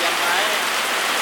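Heavy rain falls loud and steady, a dense unbroken hiss of drops with no pauses.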